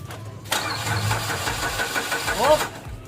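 A Ford Escape engine cranks and catches while its camshaft sensor is tested, a sudden loud start settling into a rough, pulsing run, with a voice briefly heard near the end.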